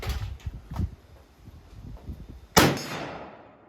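A French MAS-36 bolt-action rifle firing 1958 Toulouse-made 7.5 French ammunition lets off a single sharp, loud report near the end, with a ringing decay that follows a stretch of quieter handling sounds and shuffling.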